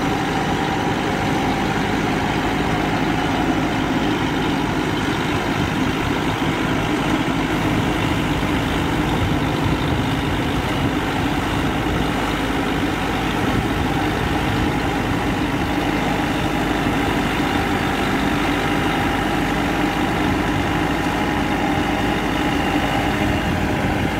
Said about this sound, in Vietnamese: Hôm nay thầy mình quay máy xúc máy xích nè các bạn.